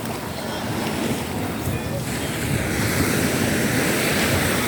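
Rough sea waves at the shore, a loud, continuous wash of surf and wind roaring close to the microphone, swelling slightly over several seconds with no clear speech.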